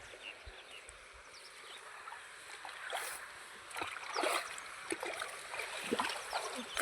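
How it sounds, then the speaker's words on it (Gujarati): Irrigation water runs into a wheat field with a soft, continuous trickling and gurgling flow, a few brief splashes rising slightly toward the end, heard from close by with no talking. "આપણે જો ઘઉં પાણી ચાલુ કરી દીધું છે હવે"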